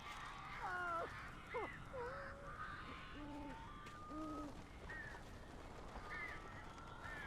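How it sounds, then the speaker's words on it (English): Birds attack in the video game Alan Wake with repeated harsh, crow-like caws and screeches that rise and fall over a steady game backdrop, fairly faint in the mix. "Save Barry from the birds"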